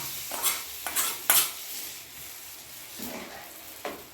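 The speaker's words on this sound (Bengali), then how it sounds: "মেথি দিয়ে দিলাম এরপরে আমি তরকাতে ঢেলে দিলাম" A hot tempering with fenugreek is poured into an egg tadka, giving a light sizzle under several close metallic clinks and scrapes of a spoon against the pot.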